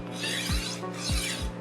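Two rasping passes of a kitchen knife blade being honed against a roller-style knife sharpener's 3000-grit honing disc, each stroke a close, rough scrape with a short gap between.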